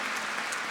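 Brief burst of steady applause from an audience at a conference session for the dedication of the Bahá'í temple of South America, dense and continuous with no voices over it.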